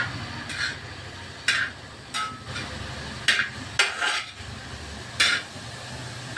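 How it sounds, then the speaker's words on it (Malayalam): Bottle gourd thoran stirred in a pan, a spoon clinking and scraping against the metal in irregular sharp knocks, about seven strikes over a soft steady sizzle, close and fairly loud. "എല്ലാം കൂടി നമുക്ക് നല്ലോണം ഒന്ന് ഇളക്കി"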